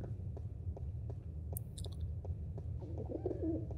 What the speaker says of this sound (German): Habe ich gerade eine Taube gehört?